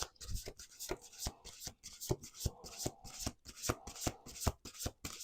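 Playing cards shuffled over and over, a rapid series of crisp riffles and bridge-like flutters, close and clear with no talking.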